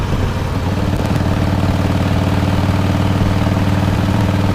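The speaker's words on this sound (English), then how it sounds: "Out on Momma Badger's bike today." A Harley-Davidson motorcycle engine runs close and loud with a steady, low, throbbing rumble that holds constant throughout, with no voices.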